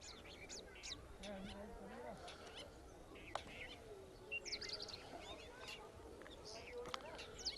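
Small mountain birds perched on a Jio mobile tower chirp and tweet in scattered, quick bursts, faint and at a distance, while someone talks over them.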